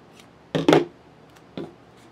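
Scissors cut a strip of tape about two inches long while a flash drive cover is being made, giving two short, close snips with a brief quiet gap between them.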